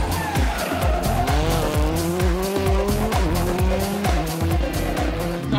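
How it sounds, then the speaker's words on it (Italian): A Citroën DS3 WRC rally car loses grip on a tarmac rally stage near Como and slides off the road, engine roaring loudly with sustained tire squeal and skidding throughout. "i sogni di gloria di Luca Pedersoli, quando la sua DS3 VRC si scompone e finisce fuori carreggiata."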